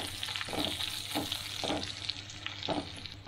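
Cumin and fennel seeds fry in hot oil with a steady close sizzle, broken by several soft scraping stirs in the pan, no talking.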